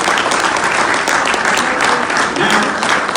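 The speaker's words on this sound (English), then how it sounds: "Let's give them another round of applause." An audience at a mosque lecture breaks into loud, sustained applause, a thick, close roar of many hands clapping without pause from start to finish.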